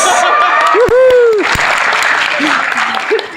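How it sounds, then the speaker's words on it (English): Applause rises from a convention panel audience, dense clapping mixed with cheers and excited voices, loud and close, continuing after shouted words at the start. "Round of applause for immaturity."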